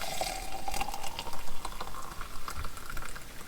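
Hot water poured from a kettle onto hibiscus tea, a steady close watery rush and trickle running throughout at moderate level, with no voices.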